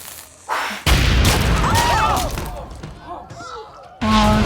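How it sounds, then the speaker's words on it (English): A loud explosion in the TV series Supernatural, a sudden heavy boom followed by a rumbling, crackling roar that fades, with voices heard alongside it. "Oh no, that's gonna explode."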